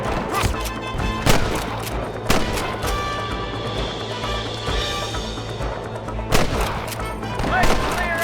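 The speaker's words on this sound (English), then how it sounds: "Good shooting, boy." Repeated loud gunshots ring out in a Wild West shootout in the Red Dead Redemption video game, with sharp cracks and booms at irregular intervals over a busy background of music and action.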